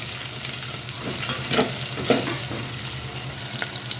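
Sliced onions frying in a pan for a Rayalaseema-style brinjal curry, a steady close sizzle with a few louder crackling bursts and light stirring scrapes, no talk.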